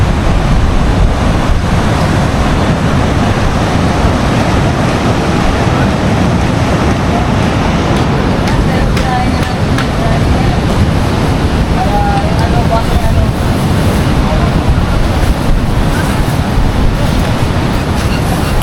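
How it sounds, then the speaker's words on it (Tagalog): A rough sea at a beach in Casiguran, Aurora, with waves breaking in a loud, steady, close wash of noise that roars on without pause. "Pero maalon."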